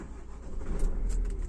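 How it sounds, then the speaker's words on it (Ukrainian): A 2023 Renault Master van engine turns over and catches, a short close rumble building in strength over about a second and a half, with no speech. "машина завелась."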